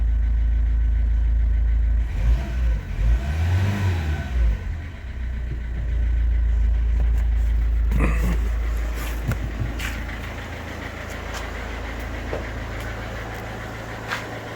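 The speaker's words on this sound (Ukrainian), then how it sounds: "Нічого не димить, не чадить, моторчик робить гарно." A used Audi diesel car engine running steadily at idle, a continuous low rumble close by that stays even and unbroken throughout, with a few brief clanks and knocks from around it partway through.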